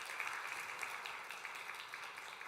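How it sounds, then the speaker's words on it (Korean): A church congregation applauds to welcome a newly registered member during a Sunday service, a soft, steady patter of many hands clapping, fairly distant and quiet, holding even throughout. "우리 박수로 환영하도록 하겠습니다"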